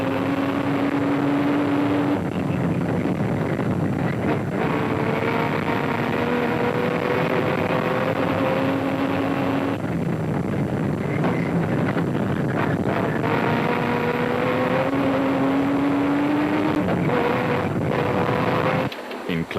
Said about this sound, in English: when Duncan puts pedal to the metal, it's a scary sight